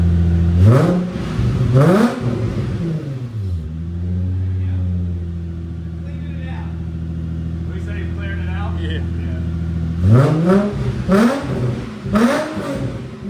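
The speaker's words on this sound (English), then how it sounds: "It sounds like a VQ motor." An Infiniti G35 sedan with a VQ engine revs repeatedly, rasping blips climbing and falling sharply, then settling into a steady idle before more quick revs; close and loud, with people talking nearby.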